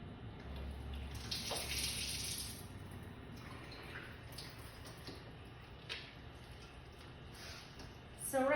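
Water runs steadily from a Kangen ionizer machine into a container, a soft continuous hiss and trickle at moderate distance with no talk.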